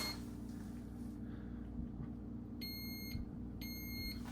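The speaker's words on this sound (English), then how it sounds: "What's that beeping noise? Oh, it is so nasty in here. Oh, it's the fridge." A refrigerator in an abandoned house emits a pair of repeated high-pitched electronic beeps, sounding twice with a pause between, over a steady low appliance hum and faint room noise.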